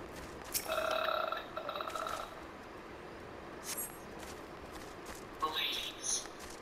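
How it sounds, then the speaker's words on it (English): A loud, drawn-out burp rises from a person in voice chat during a Final Fantasy XIV session, followed by faint talking, clicks and small background noises. "Now that burp was not bad."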